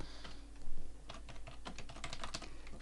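Close-up clicking of keys on a computer keyboard, soft irregular keystrokes in quick bursts, fairly faint and without speech.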